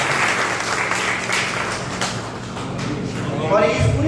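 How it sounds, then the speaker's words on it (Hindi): Audience clapping at a Lions Club installation ceremony in Parbatsar, steady applause filling the hall with voices heard over it, swelling louder toward the end. "आप सब तालियां बजाएं।"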